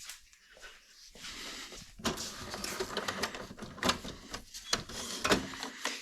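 An HP DeskJet F2180 inkjet printer from 2009 whirs and clicks as it draws in a sheet, with rhythmic mechanical bursts and short motor pulses, close by with no speech.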